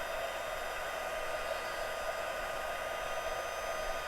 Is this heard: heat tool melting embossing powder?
yes